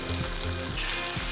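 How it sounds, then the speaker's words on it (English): Scrambled eggs sizzle in a hot pan with a steady, loud, continuous frying hiss and faint stirring scrapes, with no talking. "Sizzle."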